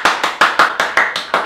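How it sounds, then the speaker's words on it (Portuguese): Hands clap in a quick, steady rhythm, eight sharp claps spaced evenly over a second and a half, close and fairly loud, matching applause in a romantic movie scene. "as pessoas aplaudem."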